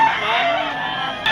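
A stag, a young rooster, at a Malabon pet market gives a single short, close, harmonic crow that lasts the whole brief moment.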